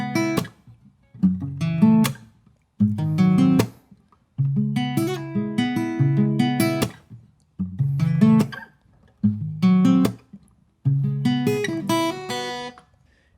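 Guitar plays a riff in short phrases separated by brief pauses, with clear plucked notes that ring alone and no talking.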